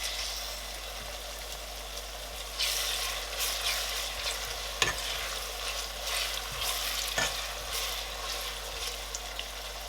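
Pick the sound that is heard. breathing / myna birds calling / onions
onions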